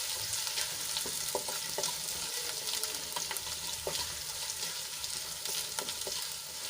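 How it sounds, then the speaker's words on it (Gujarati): Ginger sautéing briefly in hot oil for Mumbai-style chana chaat, a steady close sizzle with scattered crackles and pops plus light scraping of a spoon stirring the pan throughout. "તો આવી રીતે આપણે તેલમાં થોડુંક એને સાંતળી લઈશું"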